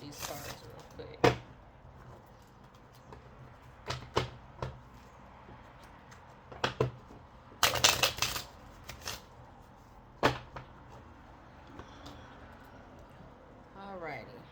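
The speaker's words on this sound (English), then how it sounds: "I just wanted to shuffle these cards real quick." A tarot deck is shuffled by hand in a quiet room, giving scattered soft riffles and sharper slaps, with a dense burst of card flutter midway and talk around it.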